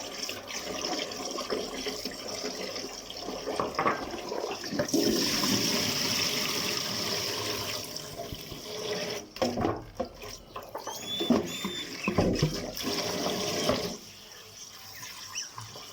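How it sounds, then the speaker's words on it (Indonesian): Water runs and splashes loudly in a sink while wild spinach is washed, a sustained rushing flow with gurgles and clatters near the end before it eases off, and no one speaks. "Kalau saya cuci ini, saya akan pastikan dia air yang digunakan itu sampai dia jernih"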